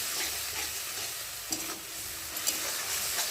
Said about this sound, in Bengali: তো দেখো, টমেটোটা গলে গেছে। আর এখন এই যে সর্ষেটাকে দিয়ে দেবো, একটু ভালো করে নাড়িয়ে চাড়িয়ে নেবো